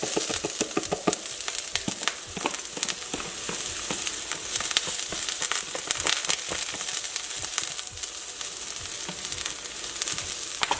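Scallion whites sizzle steadily in hot olive oil in a pan for shrimp tagliatelle, a dense continuous frying crackle with scattered sharper pops and spatters throughout, close and fairly loud, with no voices.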